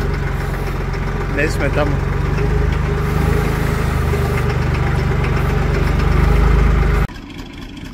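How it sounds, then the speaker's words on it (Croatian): An IMT 549 tractor idles while warming up, its diesel engine chugging steadily and evenly up close, with a brief spoken remark over it before the engine sound drops off abruptly near the end. "Evo, upalio sam da se 549 grije"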